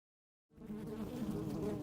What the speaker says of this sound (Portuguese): As abelhas produzem cera com o próprio corpo e constroem os favos